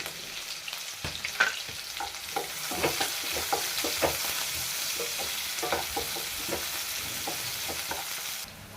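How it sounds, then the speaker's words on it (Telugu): Onions frying in a pan until brown for a Guntur dondakaya dish, with a constant close sizzle broken by repeated scraping strokes of a stirring spoon. "ఆనియన్స్ కూడా వేసుకొని ఫ్రై చేసుకోవాలి బ్రౌన్ కలర్ వచ్చినంత వరకు ఫ్రై చేసుకోవాలి"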